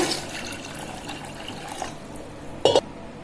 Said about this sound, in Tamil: பலாக்கொட்டையில் கொஞ்சம் தண்ணி ஊற்றிக்கிறேங்க